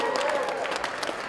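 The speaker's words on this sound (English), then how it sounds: "Let's give them a round of applause." Audience applause at a state capitol gathering, a dense wash of clapping mixed with a lingering voice and crowd murmur.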